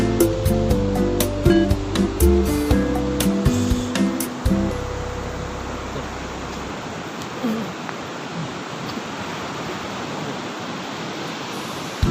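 Loud, continuous rushing water roars without a break as seawater flows into a river mouth at Mutiara Beach, a broad wash of noise after some clattering at the start.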